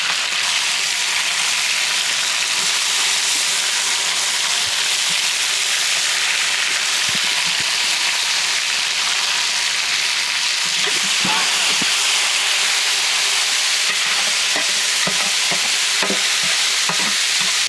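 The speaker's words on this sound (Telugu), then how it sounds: "పచ్చిమిర్చి నూనెలో చక్కగా వేగాక" Green chillies frying in oil, along with coriander and mint, make a loud, constant close-up sizzle with light stirring scrapes throughout.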